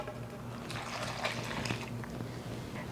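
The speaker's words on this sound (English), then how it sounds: "then I'm adding 1 1/4 cups of warm water" Warm water poured into a well in chapati flour, a soft trickling splash against a low steady background hum, quiet and close.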